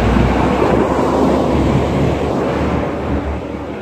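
Very strong wind buffets the microphone outdoors where a Sky Viper Hoverdrone racer was flying, a loud continuous low roar and rumble that gusts and eases slightly over a few seconds.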